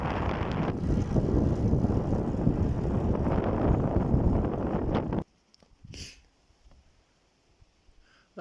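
Strong wind buffets the microphone on an outdoor ride on a TT bike during a blustery, variable day, a loud rumbling roar for about five seconds that suddenly cuts to near silence with a faint brief rustle.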